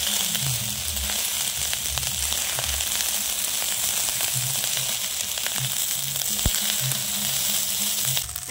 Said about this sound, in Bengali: এখন ভাতের সাথে সবজিগুলো ভালোভাবে মিশিয়ে নেব।